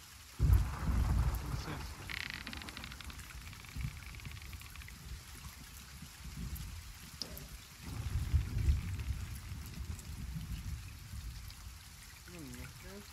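Rain and rolling thunder in the Sea of Thieves video game, with low rumbling bursts over steady rainfall while someone speaks quietly at times.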